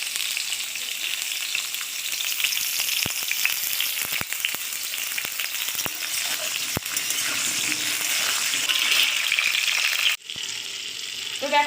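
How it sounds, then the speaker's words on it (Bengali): Pointed gourd (potol) pieces fry in white oil in a pan, a dense steady close sizzle with occasional scraping clicks of a spatula; near the end the frying briefly drops and resumes. "পটলগুলো ভেজে নেব।"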